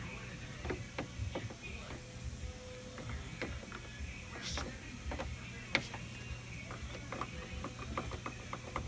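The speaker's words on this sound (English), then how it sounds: "Remove your screw from your pinion." A ratchet backs a screw out of the pinion on a powered Master Sweeper long brush, giving a faint, steady run of small clicks over a low hum.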